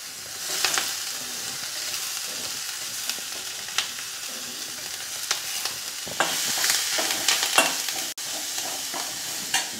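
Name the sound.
frying spices, ginger, garlic, green chilli and onion in oil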